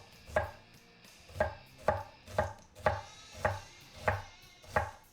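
A knife chops a quarter of an onion for burgers on a board, nine crisp, evenly spaced cuts about half a second apart, close and clear with no talking.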